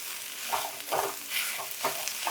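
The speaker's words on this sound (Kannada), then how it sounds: "ಲೋ ಫ್ಲೇಮಲ್ಲಿ ಇಟ್ಟು ಫ್ರೈ ಮಾಡಿ" Young ringworm plant leaves fry in a pan over a low flame, a soft steady sizzle broken by several brief stirring scrapes at irregular intervals, close and moderately quiet with no voices.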